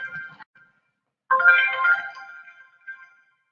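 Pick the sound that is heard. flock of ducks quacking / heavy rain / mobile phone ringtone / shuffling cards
mobile phone ringtone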